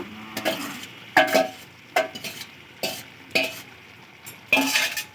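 Pumpkin, yardlong beans and fried ridge gourd are stirred in a pan without added water, producing about six distinct scraping strokes of a spatula against the pan, each followed by a faint sizzle, close and fairly loud.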